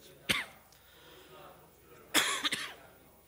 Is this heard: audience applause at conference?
no